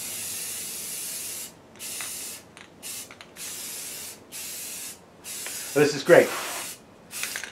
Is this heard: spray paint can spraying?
yes